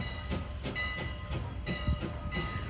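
The Thomas-themed train at Strasburg Railroad rolls past close by, its wheels clacking in a steady rhythm over rail joints under a continuous mechanical hiss and hum.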